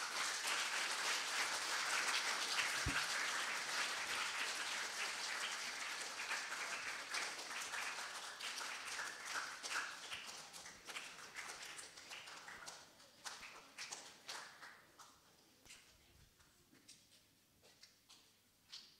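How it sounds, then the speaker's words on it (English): Sustained applause from a Year 7 school presentation assembly crowd for award winners, dense and loud at first, then gradually thinning into scattered individual claps as it fades over the final seconds. "Can we give all these boys a round of applause"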